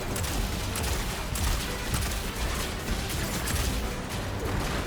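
Rocket missiles fired from a Titan's rocket build in Destiny 2: a dense, continuous barrage of bursts and rattling blasts, loud and close, with no talk heard.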